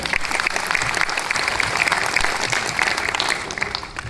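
An audience applauds steadily and fairly loudly for about four seconds, a dense wash of clapping with no talk over it, tapering slightly at the end.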